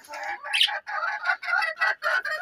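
Chickens on a poultry farm cluck in a quick, close run of short, bright calls with brief pauses between them. No other sounds intrude.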